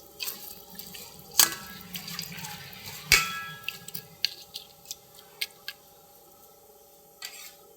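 Water is poured over rice in a pot for bagara rice: two splashy pours near the start, then scattered drips and small wet splashes that trail off, close and fairly quiet.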